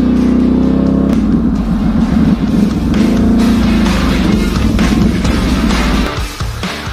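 An ATV engine drives through an old quarry, a loud, steady motor drone that shifts slightly in pitch as it climbs, close to the listener with no talk.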